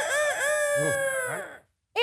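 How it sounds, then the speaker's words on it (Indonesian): A chicken-clucking sound effect on a comedy stage show, a loud, close run of warbling calls that cuts off abruptly into silence before a brief burst resumes. "Langsung ada suara ayam yang suka di kampus tuh."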